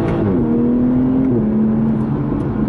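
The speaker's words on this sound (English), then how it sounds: "I'm in automatic right now, so all these downshifts and upshifts are super quick" Toyota GR Supra engine in automatic sport mode, droning loudly and close from inside the cabin, its pitch stepping quickly down and then settling as the transmission shifts rapidly.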